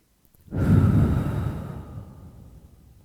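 Single deep exhale during gentle yoga practice, a close breathy rush that rises quickly and trails off over a couple of seconds, alone without speech.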